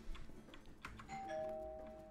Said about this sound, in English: All right, doorbell